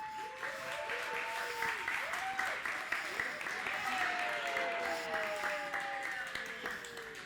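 A theatre audience at a comedy show claps and cheers in sustained applause, dense and steady, with whoops and shouts rising over the clapping.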